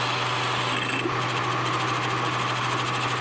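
A lathe with a plain carbide cutter turns a hydraulic fitting during an excavator main hydraulic supply repair on a Case 170B, giving a steady, continuous machining whine with a low motor hum that barely varies from start to finish.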